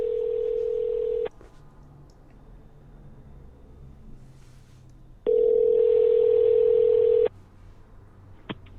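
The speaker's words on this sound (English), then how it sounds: "I'm going to get Reggie on the phone" Telephone dial tone while calling someone: a steady, loud electronic tone for about a second, a pause with faint background hum, then a second long ring tone, followed by a brief click.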